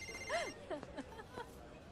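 A mobile phone rings quietly in a Hindi action film, a short warbling electronic ringtone that repeats in bursts against a soft background.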